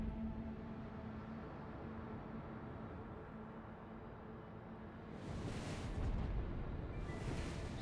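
Ship guns firing in standard mode in the naval video game with the supership Zorkiy: a continuous low rumble of battle noise, then heavy booming salvos that swell and roll out near the end, with no talking.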